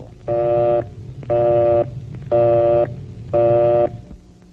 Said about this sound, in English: If the line is busy, you'll hear this busy signal.